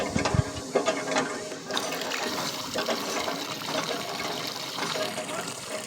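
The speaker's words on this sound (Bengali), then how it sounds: "তো ঠান্ডা করার জন্য জলটা ভিজিয়ে দেওয়া হয়" Water is poured over something hot to cool it before handling, a continuous splashing trickle with people talking over it.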